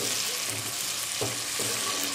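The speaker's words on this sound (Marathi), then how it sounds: "थोडस मीडियम टू हाय फ्लेमवर आपण हे परतवणार आहोत" Dried shrimp (sukat) sauté on a medium-high flame, giving a dense, even sizzle with a couple of soft stirring scrapes midway.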